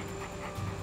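A three-legged dog pants and breathes heavily, quick soft breaths close by against a faint steady background hum, no talk.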